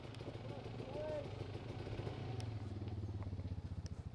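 A Suzuki DR650 motorcycle rumbles along a trail, a steady engine drone with throttle pulses and some clatter, heard at moderate distance with talk over it.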